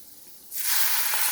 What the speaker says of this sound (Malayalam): ഇച്ചിരി ചൂടുവെള്ളം ഒഴിച്ചു കൊടുക്കാം